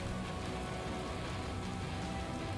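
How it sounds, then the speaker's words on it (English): Steady acid rain in the Valheim video game, a dense continuous hiss of drops on surfaces, fairly faint and unbroken for the whole stretch. "I think the acid rain just started."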